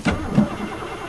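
A carbureted Chevy four-barrel 305 V8 cranks on a cold winter day, a loud close burst of starter and engine churning that fades into rough low running.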